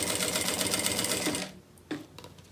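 A sewing machine stitches plastic canvas for a beach bag, a fast rattling whir for about a second and a half, then stopping, followed by a couple of faint handling clicks.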